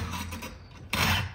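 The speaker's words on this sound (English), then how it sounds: "So yeah, just got a chainsaw file. Just like sharpening a chainsaw really." A chainsaw file rasps across the teeth of a chain mortiser chain, a few even strokes up close, with a louder pass at the end.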